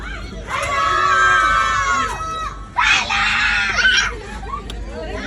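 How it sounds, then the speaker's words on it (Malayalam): A crowd of visitors, children among them, shouts and screams across the valley at Echo Point viewpoint in Munnar. There are two loud, sustained bursts of yelling, the second starting just before the three-second mark, with quieter chatter between them. "ആൾക്കാർ നിലവിളിക്കുന്നുണ്ട്, പക്ഷെ ഒന്നും അങ്ങോട്ട് എത്തുന്നില്ല."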